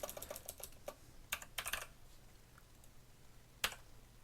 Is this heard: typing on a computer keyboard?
yes